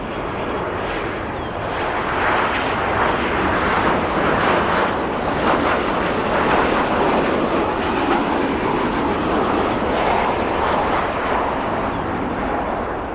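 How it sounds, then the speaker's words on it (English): An Alaska Airlines Boeing 737-900 arriving from Seattle at O'Hare International Airport gives a broad, steady jet roar that swells slightly and sustains, heard at some distance across the airfield. "we have an Alaska Airlines 737-900 arriving from Seattle"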